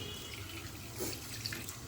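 A steady, faint stream of hot water runs and splashes while cleaning goat brain, a soft continuous pour with slight gurgles.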